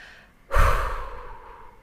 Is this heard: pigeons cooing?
no